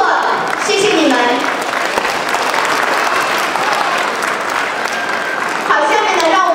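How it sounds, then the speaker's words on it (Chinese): Warm applause fills a hall at a Chinese school graduation ceremony. Many hands clap at a steady, loud level for several seconds, with voices heard briefly at the start and end. "让我们大家以热烈的掌声为这些家长在他们所在的班级做出的贡献表示感谢以及祝贺"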